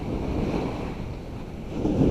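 Sea waves washing onto a shore where anglers are fishing, a steady broadband rush with wind buffeting the microphone and a swell toward the end.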